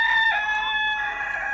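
A rooster crowing: one loud, close, sustained cock-a-doodle-doo with no talking.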